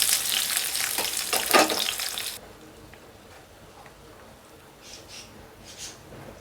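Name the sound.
chopped onion and green chilli frying in a pan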